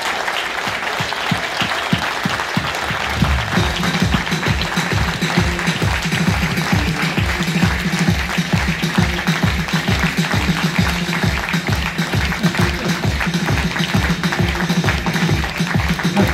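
A festival audience applauds a volunteer with sustained, loud clapping that settles into a steady rhythmic beat for the whole stretch, dense and close throughout.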